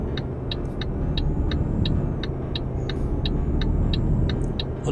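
Truck engine in Euro Truck Simulator 2 pulling under acceleration, a heavy steady low rumble joined by a rapid regular ticking or clicking repeating about every third of a second.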